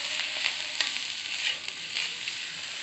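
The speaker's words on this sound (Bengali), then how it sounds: "একটা কাঁচামরিচ দিয়ে এটাকে উল্টিয়ে পাল্টিয়ে ভেজে নিব।" Rice with a green chili stir-fried in a hot pan, with a steady, close sizzle and soft scraping as it is tossed and turned.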